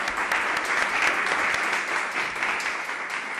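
Sustained applause from an audience at the close of a talk, a dense steady clatter of clapping hands throughout with no voices over it.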